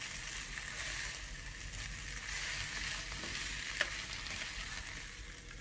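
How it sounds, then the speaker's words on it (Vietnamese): Rice vermicelli and vegetables being stir-fried for a vegetarian dish, a steady close sizzle with a few scraping stirs and one sharp clack of utensil on pan. "Rồi bây giờ mình xào lên nha."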